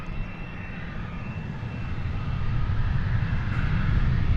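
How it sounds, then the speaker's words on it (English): A Japan Airlines heavy jet arrives at DFW from Tokyo, its broad engine roar growing steadily louder and nearer over several seconds, heard alone without talk. "Japan Airlines flight come in from Tokyo"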